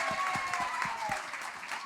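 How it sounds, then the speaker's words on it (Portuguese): Audience applause for a professor at a literature and poetry panel on an outdoor festival stage, a dense steady clatter of many hands with a few louder low claps, mid-distance, with a faint voice underneath. "de novo, palmas para ele."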